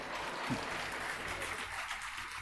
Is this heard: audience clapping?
yes